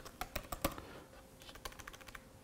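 Typing on a computer keyboard while entering network settings: a few sharp clustered keystrokes, then lighter, quicker taps, close and quiet with no voice.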